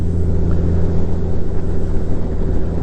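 Honda Gold Wing DCT motorcycle engine pulling hard under acceleration, a steady, loud low rumble with a constant drone and no voices.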